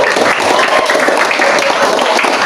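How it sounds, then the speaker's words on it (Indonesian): A room full of people gives a steady burst of clapping applause for a participant at an Indonesian workshop session, dense and close throughout. "Oke, kita berikan aplaus buat Nazri ya."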